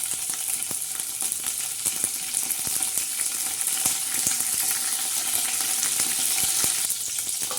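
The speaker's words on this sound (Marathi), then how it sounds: "तर छान असा कढीपत्ता आपण हलवून घेऊया." Curry leaves crackle in hot oil as a tempering for a spicy sev bhaji. The sizzle is bright and steady, with sharp pops and spatters scattered through it and occasional stirring clinks, close and loud, with no talk.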